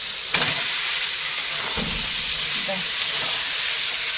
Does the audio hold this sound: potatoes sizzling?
yes